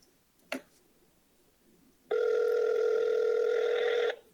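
A brief knock or thump, then a steady electronic phone ringing tone that holds for about two seconds and stops.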